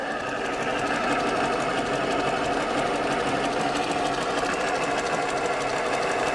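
The engine of an Australian-built Mini panel van, left to sit for years, cranks over continuously without catching, probably short of fuel, producing a fast, even churning rhythm that runs steadily at close range for about six seconds.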